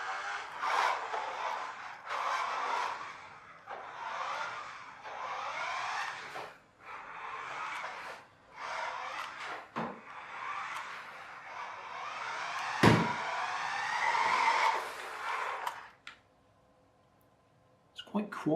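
A 2.4GHz radio-controlled Lamborghini Aventador LP700-4 model car drives with bursts of wheel spin, giving a quiet whirring and scraping in repeated surges, with a sharp knock near the end and a voice talking over it.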